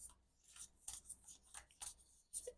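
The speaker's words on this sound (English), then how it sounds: "I've just noticed like the shuffling's taking a long time today." Oracle cards being shuffled by hand, a quiet, close series of papery riffles and rubs in irregular bursts about every half second, with no talking.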